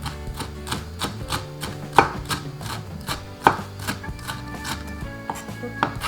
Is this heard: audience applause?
no